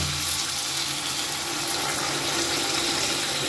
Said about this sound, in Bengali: এবারে এর মধ্যে দিয়ে দিচ্ছি আমি পরিমাণ মতো জল।